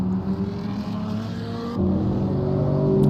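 Race cars in a DTM racing video game, Polish Grand Prix round, droning engines close together with a pitch shift as one pulls alongside, a steady sustained motor roar with no talking.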